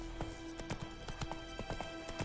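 Roach, a horse in The Witcher video game, clip-clops along in a steady rhythm of hoof falls at moderate distance, with a faint low hum underneath.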